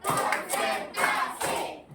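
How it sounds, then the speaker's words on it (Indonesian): A classroom of children claps hands in a counted clapping chant, with three bursts of clapping separated by short pauses. "Tepuk 1, ya. Tepuk 2, oke. Tepuk 3, tepuk 4,"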